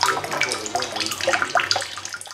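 Pure drinking water splashes and gurgles steadily into a bottle at a water purification and bottling point, a continuous close rushing flow without pause.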